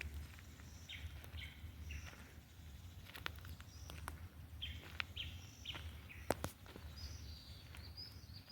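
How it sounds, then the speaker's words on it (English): Faint bird calls and chirps sound intermittently from distant trees in Nairobi, Kenya, over a low outdoor rumble, with a few sharp clicks scattered throughout. "You can hear some birds calling."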